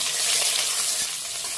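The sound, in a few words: frying bay leaf, garam masala and ginger in a pan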